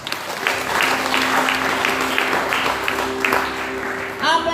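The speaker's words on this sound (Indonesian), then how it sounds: "tepuk tangan untuk Tuhan" Applause breaks out at a worship service held for a medical faculty student orientation, with a crowd clapping steadily in a dense, sustained wash while a low musical drone runs underneath, then fades near the end.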